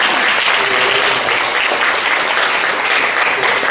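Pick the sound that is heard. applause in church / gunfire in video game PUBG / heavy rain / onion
applause in church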